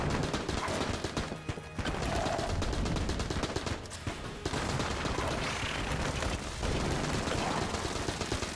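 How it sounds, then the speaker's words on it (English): Cannon fire and gunshots ring out continuously in the video game Enter the Gungeon as a cannon blasts away at enemies, with dense rapid bursts and mechanical clatter filling the whole stretch and no speech. "Kill them all with the cannon."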